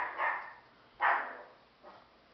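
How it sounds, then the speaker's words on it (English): Indoor dog barks, three sharp barks spaced about a second apart, moderately close, the last one softer, with quiet room tone between them. "Sorry if there's background noise, we're trying to put the dogs away"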